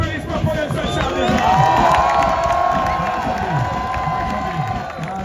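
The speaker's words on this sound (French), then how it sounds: "Et j'en fais un tonnerre d'applaudissements pour le seul Charles." Crowd at a FISE Montpellier action-sports event applauding and cheering loudly for a rider named Charles, a dense roar of clapping and shouts that swells, then eases slightly.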